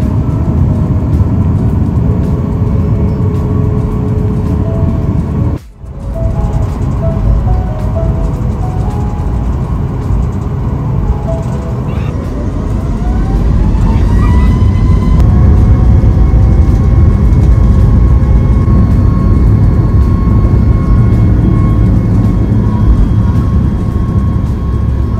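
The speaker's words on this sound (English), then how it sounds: "After a rather long taxi, we took off into the beautiful morning sky." A Singapore Airlines Boeing 737 MAX taxiing at Changi Airport heard from inside the cabin, a loud steady engine drone with a short dip early on and a rising whine as the engines spool up partway through.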